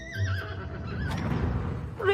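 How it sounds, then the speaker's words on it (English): A majestic horse in a video game presentation gives a loud, wavering neigh lasting about a second, then a breathy, rumbling snort with faint hoof-like clatter underneath. "What is this? A majestic horse."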